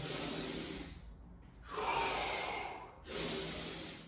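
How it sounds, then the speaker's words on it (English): Slow, deep yoga breaths heard close and quiet: an exhale, a pause, then a long inhale and another exhale, each a soft airy rush in a calm setting with no talking. "Inhale and exhale."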